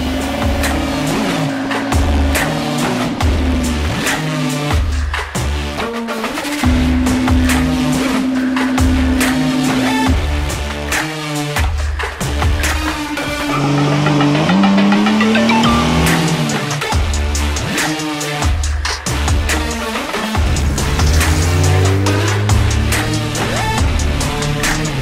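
A 1990s Opel Senator B luxury sedan with a 3.0-litre 24-valve six-cylinder engine runs loud and close, its steady drone rising and falling in pitch as the revs change, with no talking.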